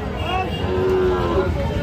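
A Sahiwal bull calf moos in a long, low call, with faint voices and farmyard background noise around it.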